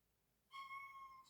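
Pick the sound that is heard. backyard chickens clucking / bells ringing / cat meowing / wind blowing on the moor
cat meowing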